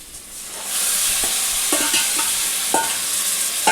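Marinated chicken, a one-kilogram batch for Telangana-style bagara chicken curry, drops into a hot pot and breaks into loud, steady sizzling with a few sharp crackles and utensil clinks, no voices.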